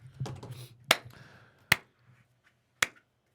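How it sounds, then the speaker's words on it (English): Three sharp, isolated hand claps ring out close by in a hot room during a livestream, evenly spaced apart, with a brief soft murmur just before the first. "I should probably do a clap test, huh?"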